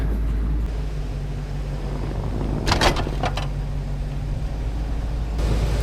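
A Ford F-250 pickup idles and creeps forward to attach a Meyer Diamond Edge 7.5' snow plow, its steady low engine drone constant throughout, with a brief metallic clatter partway through.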